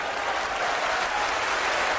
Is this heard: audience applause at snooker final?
yes